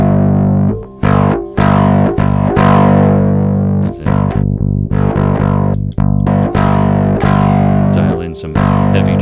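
An electric guitar played through a Hermida Audio Zendrive overdrive pedal rings out in loud, sustained, gritty chords and single notes, struck again and again with brief gaps between them, and no one talks.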